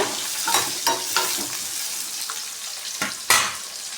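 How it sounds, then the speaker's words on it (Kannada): Onion frying in a pan for a tomato and cumin sambar hisses steadily while a spatula stirs and scrapes in a loose rhythm, with a few louder scraping strokes near the end. "ಚೆನ್ನಾಗಿ ಫ್ರೈ ಮಾಡ್ಕೊಳ್ಳೋಣ ಇವಾಗ"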